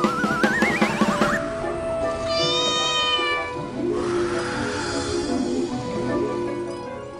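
A cartoon cat meows in a Telugu children's story about belling the cat: several loud, drawn-out meows and wails, close and clear, with no talk over them.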